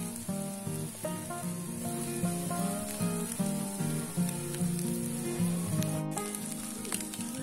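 Steady soft sizzling as chili, shallot and garlic paste is stir-fried with sliced pete beans for spicy fried rice, with faint clinks of a utensil in the pan over background music.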